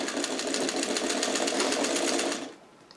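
A domestic sewing machine back stitches a pillowcase seam in one loud, steady run of quick needle clatter that cuts off after a couple of seconds.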